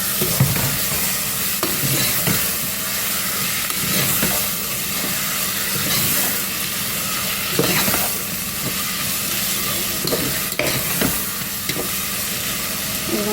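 Tomatoes sauté in a pan with a loud, sustained sizzle and hiss, broken by regular spatula scrapes and stirring knocks, heard close with no talking.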